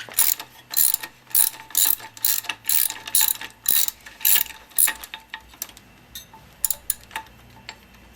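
Ratchet with an Allen socket and 17 mm wrench loosening a motorcycle cylinder head mount bolt, a series of rapid clicking bursts in a regular rhythm, close and crisp, fading into sparser clicks at the end.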